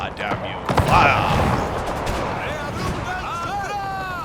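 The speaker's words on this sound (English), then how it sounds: "Turn the gun slightly to fire on this unit." Artillery gun firing on a unit in the Napoleon strategy video game, a deep boom followed by scattered distant shots and whistling projectiles under a rumbling battlefield background, with someone talking over it.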